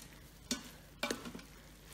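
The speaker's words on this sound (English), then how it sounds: "we're going to go ahead and take a spoon, and we're going to go ahead and stir this up" A spoon stirs an egg roll bowl mixture of vegetables and liquid inside an Instant Pot, giving two short scraping, sizzling strokes, faint and close, with no talk.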